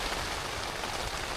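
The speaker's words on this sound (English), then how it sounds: "12 hours of this torrential rain" Torrential rain drums steadily on a tent after hours of downpour, a dense, continuous hiss close overhead with no voices.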